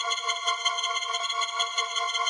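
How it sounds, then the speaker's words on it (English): A sample in FL Studio run through a fully wet, pitched-up delay effect, giving a bright, dense, sustained tonal texture that shimmers with slight rhythmic pulsing, loud and steady with no voice over it. "Creating a pitched up delay, but we have the dry wet knob all the way to 1, so we are only hearing the delay"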